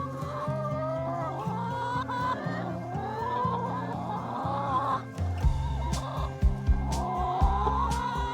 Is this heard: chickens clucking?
yes